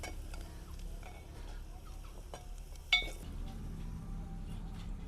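Water chestnuts fried in ghee are moved from a pan into a vessel with faint scraping and light clinks of utensils. One sharp metallic clink stands out midway over low kitchen hum.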